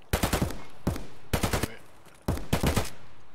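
Three loud bursts of rapid automatic gunfire from the video game Escape from Tarkov, woods map, each burst several quick shots with echoing tails, spaced about a second apart.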